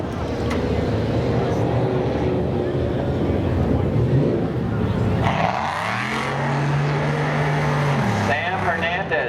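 At a spectator drag race at Seekonk Speedway, a race car engine roars steadily, then shifts to a rising, sweeping pitch as a car passes, with an announcer talking over it.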